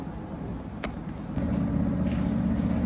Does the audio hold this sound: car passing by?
yes